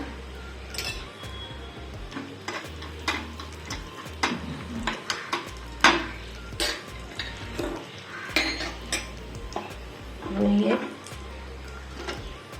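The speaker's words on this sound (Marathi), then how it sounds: "तूप चांगलं गरम झालेलं आहे काजू आणि बदाम छान असे परतवून घ्यायचे आहेत आपल्याला" Cashews and almonds are sautéed in hot ghee in a pan with a metal spoon, giving repeated clinks and scrapes against the pan over a light sizzle, close by, while a voice talks over it.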